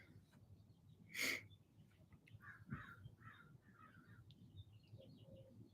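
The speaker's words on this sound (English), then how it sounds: "I listen to the birds" Faint, distant bird calls around 6 a.m. in a quiet outdoor setting: one loud harsh caw, then scattered softer chirps and calls over a low background hum.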